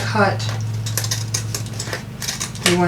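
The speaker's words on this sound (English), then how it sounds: "Just a continuous circle of spiraled paper. You just keep cutting." Scissors snip through paper in a continuous spiral cut, giving a quick series of small crisp clicks and crunches close by, with a low steady hum underneath throughout.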